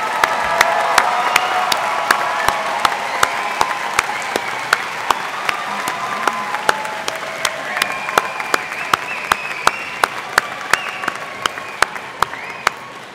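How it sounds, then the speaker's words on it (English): Large commencement crowd applauds new graduates from the School of Art and Design, a broad, sustained wash of clapping with occasional louder individual claps standing out, continuing steadily and tapering slightly toward the end. "And now a rousing round of applause for our new graduates from the School of Art"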